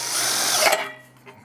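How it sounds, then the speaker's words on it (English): A 1/4-inch power drill bores a hole through sheet metal in a short, loud burst of whining bit noise that cuts off abruptly, followed by a faint brief clatter. "So I have my 1/4-inch drill, and I'm going to drill a hole through here first."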